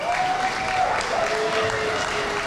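Audience applause after a speech at a pro-life march in Koper, Slovenia, dense steady clapping from a sizeable outdoor crowd, sustained without pause, with faint voices and a brief whistle-like tone mixed in.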